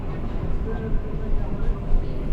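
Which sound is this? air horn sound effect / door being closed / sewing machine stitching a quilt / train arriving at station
train arriving at station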